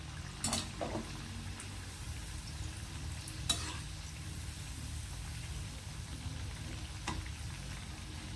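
Crab-style onion bhaji (pakoras) frying in hot oil in a home kitchen, with a steady close sizzle and hiss broken by a few sharp stirring clicks. No one speaks.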